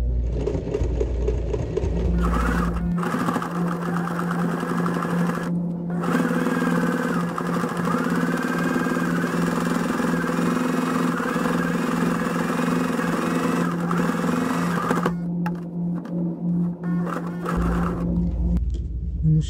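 A sewing machine topstitches around the flap of a fabric scissor holder, running in a steady, close mechanical whir for long stretches, with brief stops and restarts between runs.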